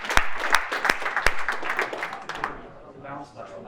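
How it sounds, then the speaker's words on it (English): At a nightlife photography workshop, a small audience claps a short round of applause: a few loud sharp claps, then scattered clapping that fades out. "Round of applause as well."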